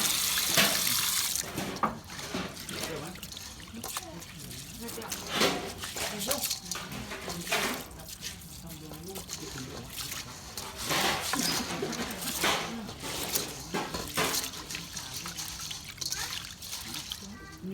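New sticky rice is rubbed and rinsed by hand in water with alum, giving steady splashing, sloshing and trickling close by, with someone talking over it.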